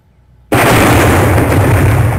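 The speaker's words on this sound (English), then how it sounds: "Firing main cannon." A tank's main cannon fires in the Halo video game, a sudden loud explosive blast after a quiet start, followed by a sustained roaring rumble that fills the rest of the moment.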